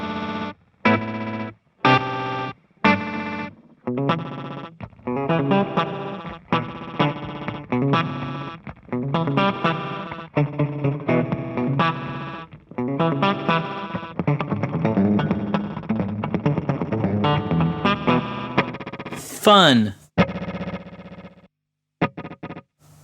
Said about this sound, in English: Now we're back to that Nintendo bit crushing.